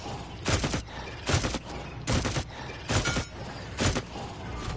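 Sharp bursts of gunfire from Talus's weapon in a champion shooter game ring out in five evenly spaced volleys, each a short crackling burst with recoil, loud and close with no other sounds.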